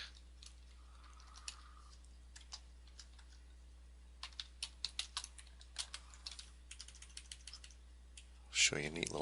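Quiet, irregular clicks of a computer keyboard come in loose runs of keystrokes, sparse at first and then denser. A louder knock or clatter sounds near the end.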